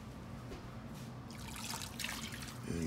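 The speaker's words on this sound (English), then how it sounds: "Now we're just gonna fill this up with some water" Tap water running and trickling into a bowl of raw chicken wings being rinsed in a kitchen, a soft steady splashing that grows slightly louder toward the end.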